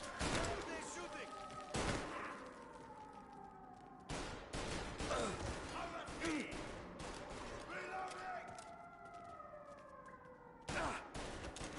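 Enemy gunfire during a shootout in Mafia Definitive Edition, sharp shots bursting repeatedly over a busy mix with a siren-like wail and voices talking throughout.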